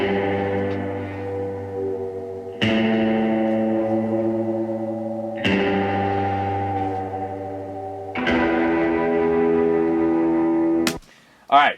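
Layered distorted electric guitar chords, tracked through a Mini Brute amp in an isolation booth with two room mics, ring out in three long sustained strums with a swelling reverb tail, then cut off before a brief final note.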